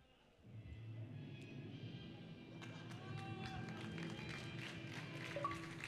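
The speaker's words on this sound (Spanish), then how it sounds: "Venga, un aplauso" An audience applauds at a DJ Hero final event, the clapping starting abruptly after a quiet moment and swelling into a dense, continuous patter with crowd noise and scattered voices mixed in, heard from some distance.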